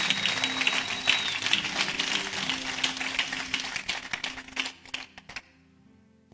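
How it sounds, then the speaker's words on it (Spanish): Church congregation applauding during a conference session, a crowd of clapping hands at moderate level with a voice briefly audible, thinning into a few scattered claps before fading to near silence. "Vamos a darle un aplauso a Jesucristo y a su palabra."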